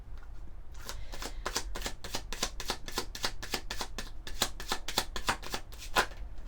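A deck of oracle cards is shuffled in a quick, even run of crisp flicks and slaps, close up and with no talking.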